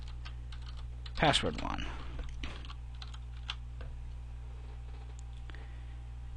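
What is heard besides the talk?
typing on a computer keyboard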